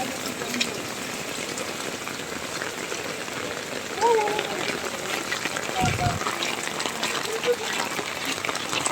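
Heavy rain falls in Hemayetpur, a dense steady patter and wash on surfaces, with faint voices and passing movement underneath.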